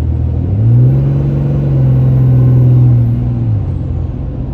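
A Cummins 6.7 diesel engine fitted with an eBay intake rumbles loudly and steadily from inside the vehicle, with a turbo whine rising and holding as it revs, then easing off.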